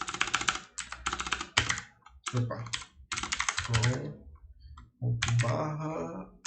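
Quick bursts of typing on a computer keyboard while coding in Node.js, clustered key clicks in irregular runs separated by short pauses, close and crisp, with someone talking in Portuguese over parts of it.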